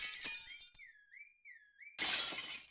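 Window glass shatters in the Since November video game during a car-lot scene, with a wavering car-horn-like tone sounding first and then a loud, close burst of breaking glass raining down.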